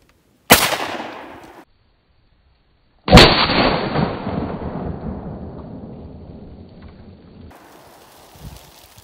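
Two loud blasts from a 10 gauge shotgun firing Fiocchi shells, the second a shell that ruptures in the gun; each sharp boom rings out close by and rolls away in a long decaying echo.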